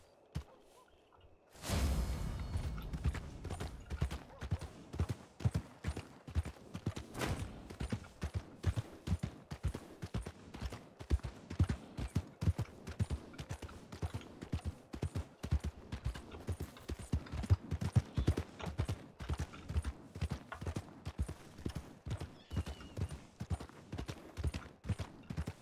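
A horse's hooves clip-clop in a RedM roleplay game, rapid and rhythmic, starting abruptly as a gallop and continuing evenly throughout, close and fairly loud.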